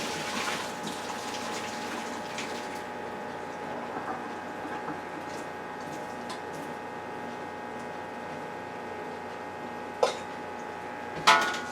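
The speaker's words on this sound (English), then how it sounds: "So I'm going to pour the hot water off through this strainer" Hot water poured off cooked Cheetos-brand macaroni through a strainer, a steady rushing gush of liquid with a couple of sharp clanks of a pot or strainer near the end.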